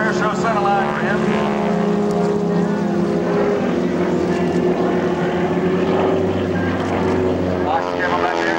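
An SNJ warbird flies aerobatics at an airshow, its radial engine and propeller droning loud and steady with shifting pitch, while someone talks throughout over the noise.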